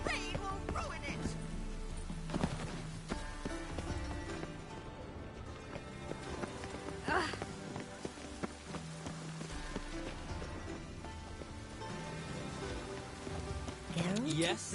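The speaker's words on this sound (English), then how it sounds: "The rain will ruin it!" Steady rain patters throughout beneath a busy soundtrack of music and voices from The Witcher 3, with occasional brighter splashes and effects.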